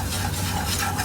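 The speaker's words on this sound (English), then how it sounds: "I'm just going to mix this until the flour is browned." Flour being stirred into oil in a pan to brown a dark roux for cube steak gravy, a steady scraping stir with a soft continuous sizzle, close and fairly loud, with no talking.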